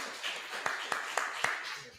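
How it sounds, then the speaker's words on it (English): An audience clapping for Lob: a few scattered, distinct claps spaced about a quarter second apart, fairly light and close, over a background murmur. "clap it up for Lob, man"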